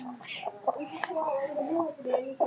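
Hens clucking in a flock at a Punjabi poultry yard, with chickens fed flour nearby, a string of short nasal clucks and squawks at close range, overlapping and continuous.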